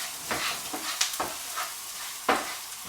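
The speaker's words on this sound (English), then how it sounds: "just give that a bit of a whisk" Turmeric and chilli being whisked into a sizzling pan for rogan josh, soft frying hiss punctuated by several quick scraping strokes and light taps.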